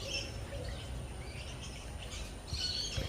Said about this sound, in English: Seems like the birds like that one.